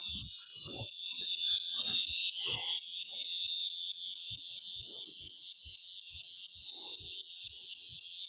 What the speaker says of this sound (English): we've got a wave of cicadas going off over here